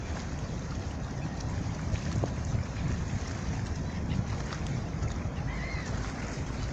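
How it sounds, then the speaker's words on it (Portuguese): Bulk carrier ship's diesel engine running at full power while a tug pushes at the stern during unberthing at the Rio Grande port, heard as a steady low rumble mixed with wind noise and water, with no voices. "agora o navio deu máquina. Toda a máquina agora. Olha o diesel queimando."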